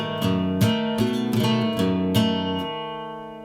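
Acoustic guitar chords from the beginner version of a song ring out: about six strummed chords in a steady rhythm, each bright and sustained, the last left to ring and fade, with no talking.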